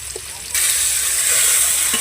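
Tomatoes and coriander dropped into hot ginger garlic paste for a Telugu-style fish curry, a sudden loud sizzle that starts after a brief quiet and holds steady.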